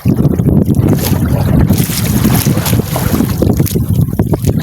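A small fishing boat rides a choppy open sea, with heavy wind buffeting the microphone and water slapping against the hull in a loud, constant roar.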